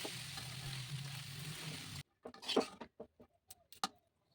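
Boiled chow mein noodles and fried egg stir-fried and mixed in a pan: a loud steady sizzle for two seconds, then quiet with scattered scraping and tossing clatters close up.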